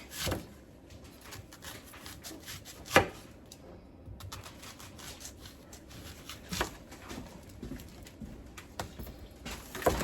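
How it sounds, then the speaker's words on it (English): A knife slices an onion on a cutting board while preparing fajitas, with sparse, irregular close taps and thuds that are fairly quiet, and no one talking. "Let's slice an onion."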